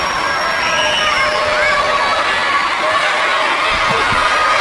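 A boxing crowd roars and cheers loudly and steadily at a Manny Pacquiao versus David Diaz fight, a dense wash of voices with excited shouts rising through it and a couple of sharper yells near the end.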